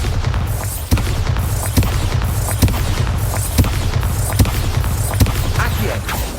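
Repeated Bombarda blasting spells bursting pumpkins in Hogwarts Legacy, sharp booming hits roughly every second over a loud rumbling game background.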